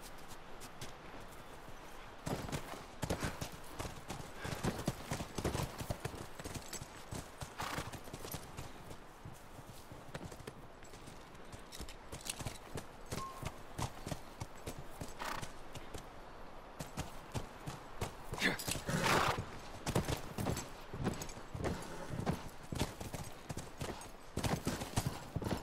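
Horses walking with steady clip-clop hooves and occasional neighs in The Last of Us, moderately close and continuous, with no talk.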